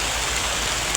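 Rain falling steadily during a coconut harvest, a dense, even hiss of drops filling a single unbroken second.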